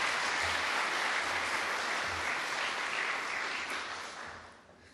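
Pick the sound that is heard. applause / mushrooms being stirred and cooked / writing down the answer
applause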